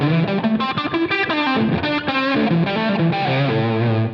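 Electric guitar with a warm, creamy tone on a Line 6 Helix, overdriven with chorus and reverb, playing a continuous melodic phrase of sustained notes and bends, loud and alone.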